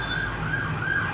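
Busy road traffic with a siren sounding from an emergency vehicle on the street outside a tire shop, a steady continuous wail over the broad rumble of passing cars.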